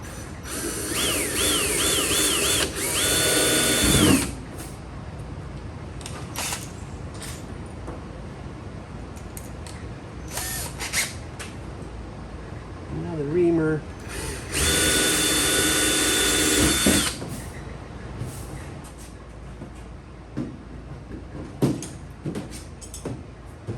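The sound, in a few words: drilling number 40 holes in aircraft wing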